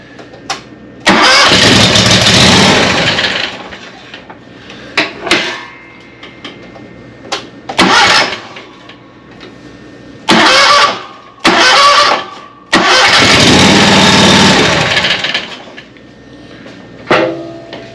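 A John Deere 652R stand-on mower with a Kawasaki FX730V engine cranks on its starter without firing, in several loud bursts of a few seconds each, separated by short pauses and clicks.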